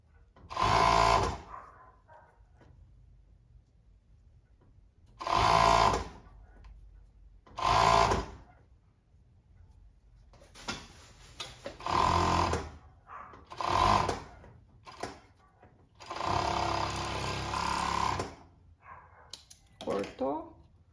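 A home sewing machine stitches fluffy fabric for winter pajamas in several short loud bursts separated by pauses, each run a close rapid needle chatter, the last burst longest; someone talks quietly in the gaps.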